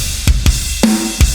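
Drum kit samples from a GGD P5 library: several sharp kick and snare hits spaced apart with room ambience, played alone.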